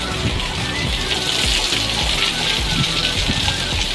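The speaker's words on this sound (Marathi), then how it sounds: "पाऊस झाला सुरू." Steady, dense rain hisses down at a village house, a continuous wash of falling water with scattered low splashes and drips throughout.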